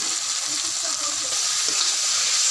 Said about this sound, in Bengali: রসুন দিয়ে দিলাম, আমি শাকটি ঢেলে দিলাম